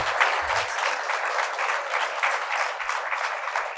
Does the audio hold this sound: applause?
yes